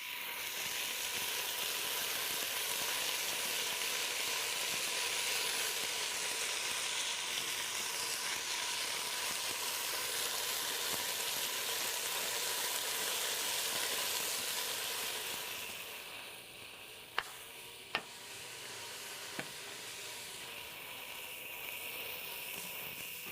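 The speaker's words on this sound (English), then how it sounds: "Just wait a moment, let it sear, and then turn it over." Beef pieces sear in a very hot pot with a steady, close, dense sizzle that hisses continuously, then eases slightly near the end, where a few sharp clicks break through.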